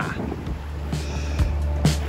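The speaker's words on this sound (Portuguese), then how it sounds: "Chegou o vento!" Steady wind rushes across a sailboat under sail on the way to Punta del Este, a constant close breathy roar with a few soft knocks and thumps from the boat.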